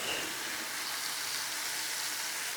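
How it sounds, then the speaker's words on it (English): Onions, garlic, peppers and chilies sautéing in a pan, a soft, even hiss of frying that stays steady and fairly faint throughout. "So I'll just saute that until the vegetables have softened"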